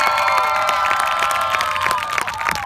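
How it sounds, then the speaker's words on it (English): A crowd at an addiction awareness event, hosted by Bobby Madden of Malden, cheers and claps loudly for a group of gentlemen, with shrill whoops and shouts riding over steady applause throughout. "give a round of applause for these gentlemen"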